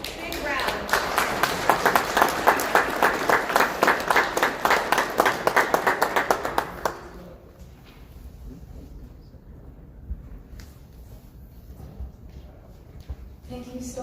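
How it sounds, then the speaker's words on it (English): Audience applause at a Sri Lankan Independence Day celebration in New York City: loud, dense clapping from a crowd lasts about seven seconds, then fades out into quieter room sound with a few scattered claps. "So a big round of applause for our first speaker."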